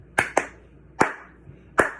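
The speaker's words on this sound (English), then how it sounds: "We're going to start with clapping." Hand claps at a church Vacation Bible Camp, sharp and close, a pair then single claps and another pair in an uneven rhythm, with a fainter tap between, no voices over them.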